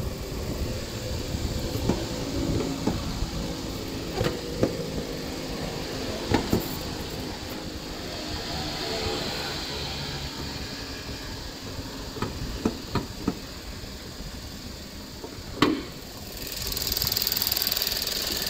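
A 2013 automatic car's engine idles, heard from inside the cabin as a low, steady rumble with occasional clicks and knocks, fairly quiet and unaccompanied by talk.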